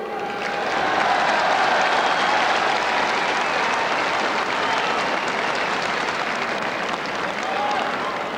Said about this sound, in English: both teams, Cork and Galway, really deserve a tremendous round of applause here today